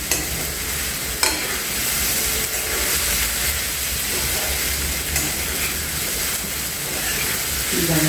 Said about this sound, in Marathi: छान असे तुपामध्ये मिरचीमध्ये साबुत तांदूळ परतून घेतला.